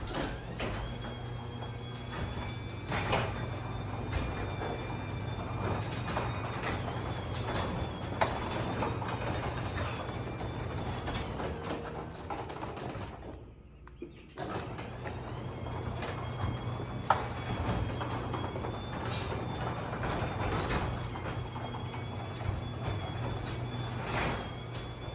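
A LiftMaster 6690L garage door opener after 500 cycles: a steady mechanical drone with a low motor hum runs continuously, broken by a brief quiet dip midway before resuming at the same level.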